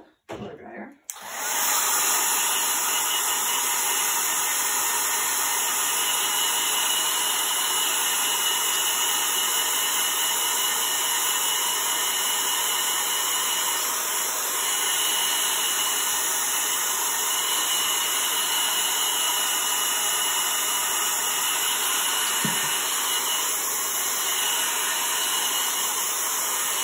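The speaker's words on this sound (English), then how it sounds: "use a blow dryer." A loud, continuous blow dryer roar starts after a brief click and runs steadily without pause, a close, airy whine with a high tonal edge, used as heat on chalk-paint pumpkin cutouts.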